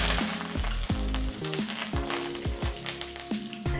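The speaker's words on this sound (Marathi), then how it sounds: "कढीपत्ता तळला गेलेला आहे." Curry leaves fry in hot oil in a pan, a bright crackling sizzle with a spoon scraping and stirring, while a low electronic tone steps underneath.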